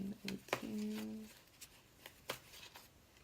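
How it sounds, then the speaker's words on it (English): Tarot cards being shuffled in a few quiet bursts of riffling and snapping, close and soft, with a brief voice near the start. "So I had to shuffle in."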